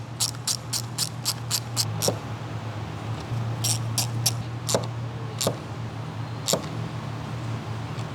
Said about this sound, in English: Using the small ratcheting wrench and spinner handle and T25 Torx socket,